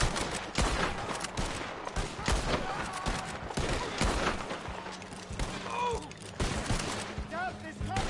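Chaotic Red Dead Redemption 2 gunfight, with a dense spray of shots and volleys mixed with game voices and shouting, busy and loud throughout.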